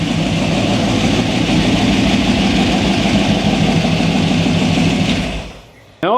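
A T-bucket hot rod engine idles loud and close with a lumpy, low, uneven rhythm, running slow, then fades out near the end before a brief burst returns.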